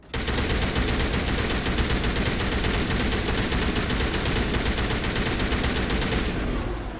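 A rifle in Mass Effect Legendary Edition fires in sustained automatic bursts, a loud rapid, evenly spaced rattle of shots that runs almost unbroken for several seconds before stopping abruptly.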